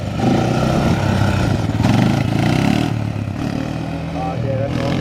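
A car with an RB25DET engine, its wiring faulty, revs loudly and accelerates through low gears, the engine note rising and swelling before easing off, while voices talk over it.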